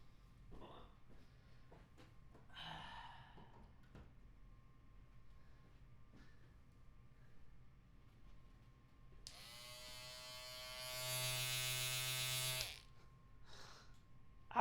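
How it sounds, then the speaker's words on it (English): An electric shaver buzzes close and steady for about three seconds as it runs over a head being shaved, following quiet room sounds, faint shuffling and a few soft breaths. "Let's shave my fucking head."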